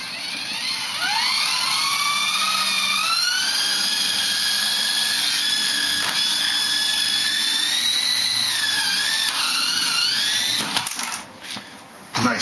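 A toy helicopter's small electric motor whines steadily close by, pitch rising and dipping as it flies, then cuts out abruptly as it settles into a soft landing.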